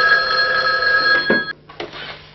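An old-style telephone bell rings loudly and steadily in a village home, the continuous ring cutting off abruptly, followed by a brief quieter burst.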